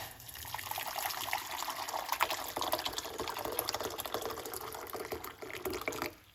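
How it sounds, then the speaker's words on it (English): Hot water pours into a pot on the stove while onion tea is being made, a soft steady splashing stream that runs for several seconds and tails off near the end. "We're gonna put 1 large cup of hot water."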